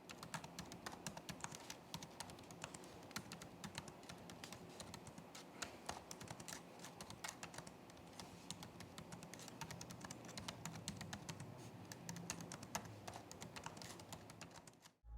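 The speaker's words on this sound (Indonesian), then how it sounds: "berikut ini deh adalah contoh suara feedback dari keyboard laptop ini" Someone types continuously on the keyboard of an Acer Aspire 3 Slim A314-23M-R24X laptop, producing a steady stream of quiet, close keystroke clicks with no pauses.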